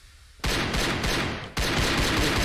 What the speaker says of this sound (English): Firing a little bit.